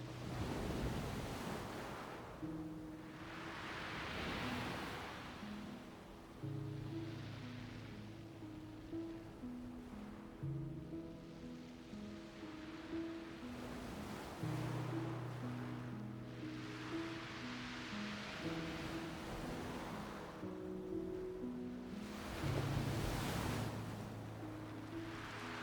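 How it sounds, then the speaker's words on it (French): Gentle ocean surf rolls onto the shore in repeated slow swells, each wash rising and receding softly at a distance, with a faint sustained tone underneath and no voices. "appréciez le doux bruit des vagues."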